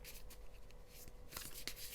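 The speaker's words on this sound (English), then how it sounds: "as I shuffled this tarot deck to get more detailed information" A tarot deck is shuffled by hand in a quiet room, giving soft riffling and sliding card sounds in short bursts, close and faint, with no talking.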